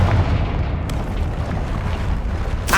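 Confringo blasting spell in Hogwarts Legacy, a loud booming explosion with a heavy rumbling tail that fills the clip, then a fresh sharp burst right at the end.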